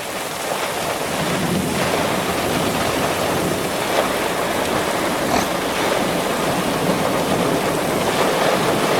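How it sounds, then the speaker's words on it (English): Hail and heavy rain beat down steadily through a severe thunderstorm in May, a dense, continuous broadband roar of rain and wind with no voices. "Nope, there's more hail."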